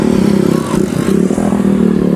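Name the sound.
noisy motorcycle on Sipora island, Indonesia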